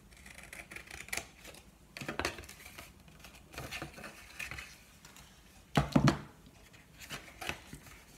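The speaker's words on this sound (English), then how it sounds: "So I'm going to use my long scissors." Long scissors snip through paper in a series of crisp, irregular cuts, close and fairly quiet, with short pauses between strokes.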